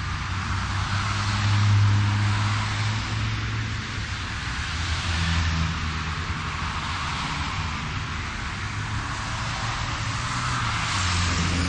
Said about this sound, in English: Watch the white ute complete a left-hand turn followed by a U-turn a short distance down the road